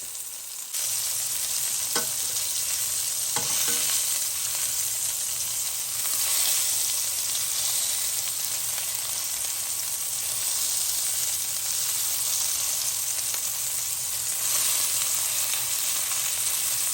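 Meatballs browning in a frying pan, a steady loud sizzle running throughout with occasional stirring clicks and scrapes, no talking.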